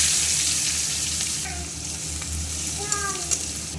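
Dried red chillies and black cumin (kalo jeera) sizzling in hot oil, a steady close crackling hiss that eases slightly, with a few light utensil taps near the end.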